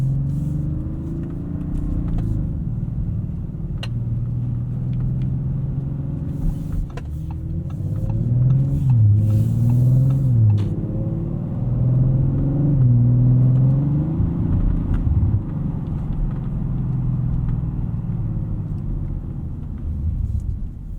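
A 2021 Audi RS5 Coupe driving at night gives a steady, close low engine rumble, with revs swelling and easing as it moves along at gentle speed.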